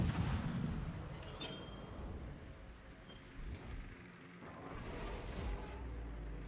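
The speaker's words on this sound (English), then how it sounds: "See if I can get some fires on the Vanguard." Naval guns fire at a Vanguard battleship in a naval warfare game, heavy booming salvos rolling over a dense rumbling battle backdrop, with a couple of louder blasts standing out.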